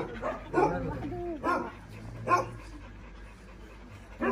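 Dogs at an animal shelter in Egypt bark in short, loud bursts spaced a second or so apart, with a whimpering yip between them and a person talking quietly in the background.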